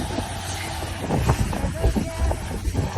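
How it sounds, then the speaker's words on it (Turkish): Steady wind buffets the microphone while water rushes and the hull creaks faintly, with occasional low thumps and no talking, aboard a sailboat under sail without the motor between Bozburun and Marmaris. "motor olmadan, yakıt harcamadan, rüzgar sesiyle keyifli bir seyire baş başa bırakalım"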